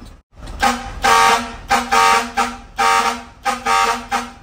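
A loud, brassy vehicle horn from an aftermarket horn module blares in repeated bursts of varying length, close and alone, like a multi-tone horn being cycled through patterns.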